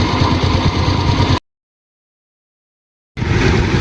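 A scooter engine strains on a rough, freshly bulldozed dirt road, giving a loud, steady drone that cuts out completely for almost two seconds before starting up again.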